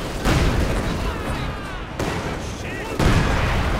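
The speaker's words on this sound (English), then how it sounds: "Artillery going in here on the assembled Soviet positions." Artillery fire in the Company of Heroes 2 strategy game, a heavy fusillade of booming shell impacts with three sharp louder hits about a second apart over continuous rumbling battle noise, with a voice talking over it.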